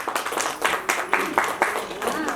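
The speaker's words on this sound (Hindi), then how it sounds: "कृपया अपनी ताली बनाए रखें, ये बहुत बड़े बूस्ट का काम करती है" Audience clapping at an International Women's Day event by a social organisation in a hall in Delhi, a moderate spatter of hands with several uneven bursts rising and falling, mixed with some voice.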